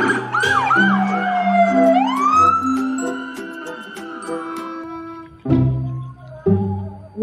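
A toy police car siren wails in rising and falling sweeps, loud and close, followed by a few short electronic beeps and jingles at the end.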